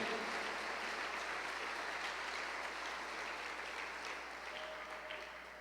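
A church congregation applauds together in a steady, dense wash of clapping that fills the room and slowly tapers off toward the end, with no voices over it.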